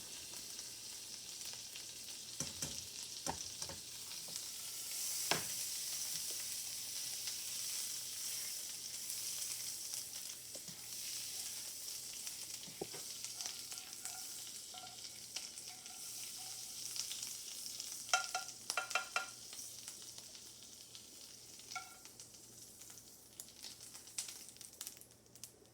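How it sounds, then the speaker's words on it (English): Garlic and herb butter sizzling in a hot pan, a steady, soft crackling hiss that runs throughout, with a few light clicks and taps on top and no talking. "I'm just gonna put some of this garlic, I think it's garlic and herb butter in this pan"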